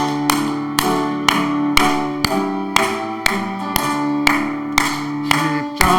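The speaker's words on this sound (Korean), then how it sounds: "한번 크게 한번 박수 치면서 찬양 한번 드립시다." A church congregation claps in unison along to hymn 353, sharp loud claps landing on a steady beat about twice a second over sustained organ-like chords.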